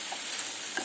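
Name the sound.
stirring beef roast mixture in a cooker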